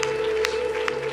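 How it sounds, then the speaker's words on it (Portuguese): Church congregation applauding during a Christmas service in Lisbon, a steady dense wash of clapping with a few sharper bursts, loud and continuous throughout. "Aplauda Jesus, aplauda Jesus."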